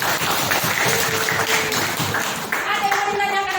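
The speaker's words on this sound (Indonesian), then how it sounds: "Tepuk tangan dulu untuk si Lenca." Brief clapping from a class of students for a classmate named Lenca, mixed with chatter and voices over it before the room settles.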